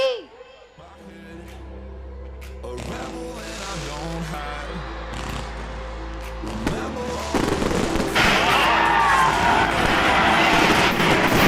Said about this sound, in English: for today's opening ceremony, daylight fireworks